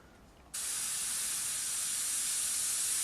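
Spray gun set to a small, tight pattern sprays single stage enamel paint, starting with a sudden hiss after a brief quiet moment and continuing as a steady, even hiss.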